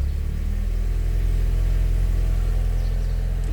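A Mazda car with an FZ automatic transmission idles steadily at close range while the shifter is moved into neutral, its low engine rumble continuous and even throughout.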